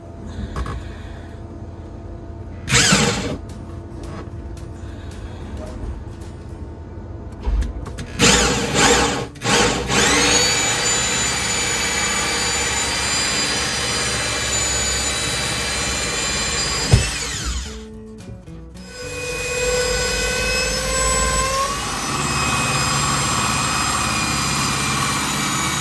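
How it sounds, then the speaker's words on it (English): Power drill whirring in bursts while drilling an air vent hole for a propane tank in a van, with short spins early on, then a long continuous high-pitched drilling run, a pause, and another sustained run. "now I just need to take some measurements and drill the hole for the air vent."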